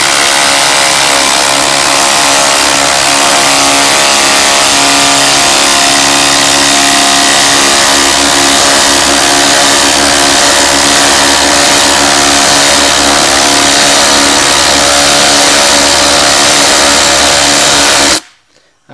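A Hercules cordless impact driver drives a 6-inch lag screw into wood, heard as a loud, continuous rattling hammer-and-motor buzz close up that stops abruptly near the end.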